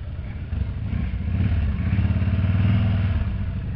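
A Harley motorcycle drifting on snow rumbles close by, its engine chugging in a steady pulsing beat that builds slightly as the bike slides.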